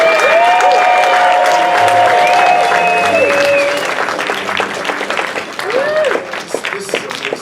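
Loud, sustained audience applause with cheering at a lifetime achievement awards ceremony, steady clapping filling the first half before thinning, with whoops and voices riding over it.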